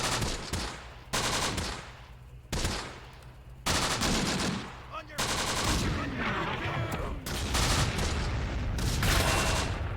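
Battlefield combat in the tactical war game Close Combat: The Bloody First, with repeated booming artillery impacts and bursts of rifle and machine-gun fire crackling in between, loud and dense throughout.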